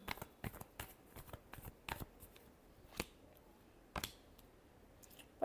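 Tarot cards being shuffled produce a quick run of soft, crisp clicks and riffles. The clicks come close together at first, then thin out into a few isolated snaps, all faint and with no talking.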